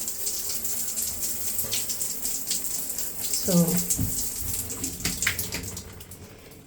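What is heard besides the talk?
water running from a tap in a bathroom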